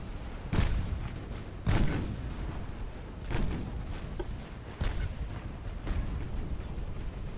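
Naval artillery from battleships in Ultimate Admiral: Dreadnoughts, a French and German fleet clash, heard as heavy booming salvos that roll out every second or two over a continuous rumbling battle background, loud and with no voices.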